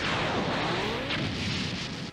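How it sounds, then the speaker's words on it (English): A self-destructing weapon built by the Saiyans explodes in the Dragon Ball Sparking Zero video game, catching Yamcha: a loud, sustained roaring blast with rumbling debris that carries on for about two seconds before cutting off abruptly. "Unable to escape, Yamcha dies in the explosion induced by self-destructing weapon the Saiyans have made"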